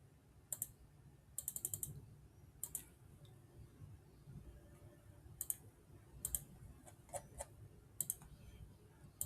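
Keys on a computer keyboard are tapped in short irregular bursts of quick clicks with pauses between, faint and close over a low steady room hum, while text goes into a text box in Canva.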